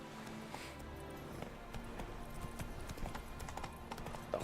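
Roach, the horse in The Witcher 3 game, clip-clops along in a steady run of soft hoofbeats, quiet and continuous against low background ambience.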